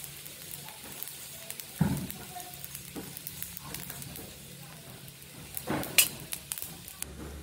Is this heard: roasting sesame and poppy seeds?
yes